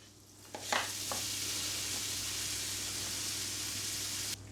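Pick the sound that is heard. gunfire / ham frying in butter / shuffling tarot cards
ham frying in butter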